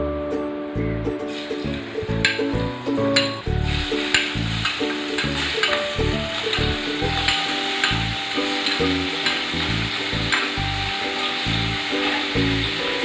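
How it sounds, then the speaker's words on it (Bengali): Prawns hit hot mustard oil in a pan, giving a continuous loud sizzle with bursts of crackle and scattered clinks as they are moved about, a low tonal hum beneath. "তেল গরম হয়ে গেছে, এবার আমি এর মধ্যে দিয়ে দেবো চিংড়ি মাছগুলো।"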